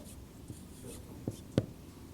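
A pen scratching quickly across paper to cross out written work on a calculus problem, a few short brisk strokes, close and fairly quiet, with no talk.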